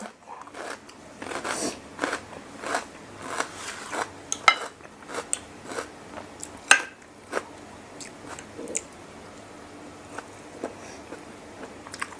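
Close, crisp crunching bites into fresh vegetables from a salmon noodle salad, a series of sharp irregular bites and chews with light utensil clinks in between.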